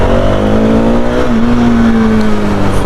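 A new 2021 KTM 390 Adventure BS6 motorcycle on the move, its engine a loud, steady drone with harmonic whine as the revs climb and settle, close to the mic over continuous wind rush.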